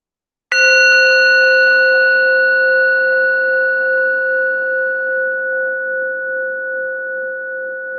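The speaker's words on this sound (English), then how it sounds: "At the sound of the bell" A single meditation bell is struck once, close and clear, its bright ringing tone sustaining and slowly fading over several seconds in an otherwise silent room.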